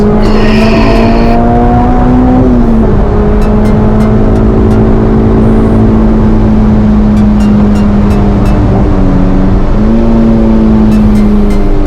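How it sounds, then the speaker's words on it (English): A car with a titanium exhaust drones loudly and steadily up close, its pitch shifting as it revs, with faint clicking ticks scattered throughout. "is that a titanium exhaust?"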